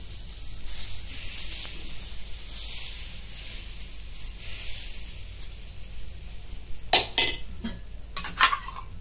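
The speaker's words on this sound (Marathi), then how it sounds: "आता हे बेटर ओतून घेते. अशी पसरून घेते सगळीकडे." Batter sizzling in a hot pan as it is spread out, a steady bright hiss held for several seconds, followed by a few sharp scraping and clinking sounds near the end.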